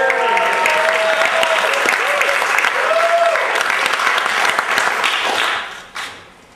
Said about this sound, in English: I would like to have a nice, warm round of applause for our Master of Ceremonies, ladies and gentlemen, Mr. Thai.